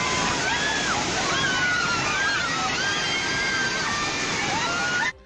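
Fast-flowing river water in flood surges and sloshes with a loud, continuous rushing wash. High shouting voices cry out across it before the sound cuts off abruptly.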